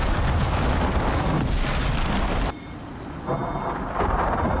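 Heavy rain and rolling thunder from a thunderstorm with lightning in the survival video game Icarus make a loud, continuous wash. The roar dips briefly midway and then swells again.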